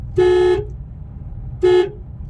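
A car horn sounds two short, loud toots about a second apart over a low road and engine rumble, heard on a beginner's driving lesson on a city road.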